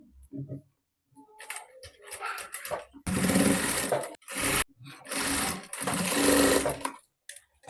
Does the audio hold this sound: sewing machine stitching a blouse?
yes